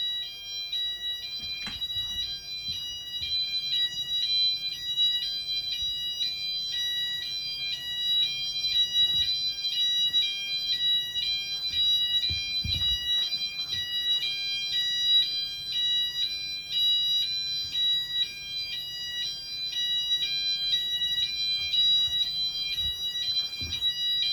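Fire alarms beep in a steady, rapid repeating pattern of high electronic tones that continues loudly throughout, with faint movement and thumps underneath and no talk.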